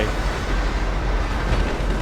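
A train in GTA V Online rumbles loudly and steadily with dense rolling rail noise, no pauses.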